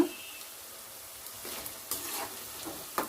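Cauliflower florets for gobi Manchurian fry in hot oil, a soft continuous sizzle broken by a few clattering stirs and scrapes toward the end, fairly quiet and without voices.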